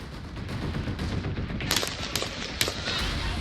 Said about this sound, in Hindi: एक के बाद एक धमाकों से पूरा काबुल एयरपोर्ट हिल गया।